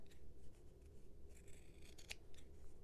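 Scissors snip through layered cotton fabric while a pot holder is trimmed at an angle, a few quiet, close cuts with one sharper clip near the end, no talk.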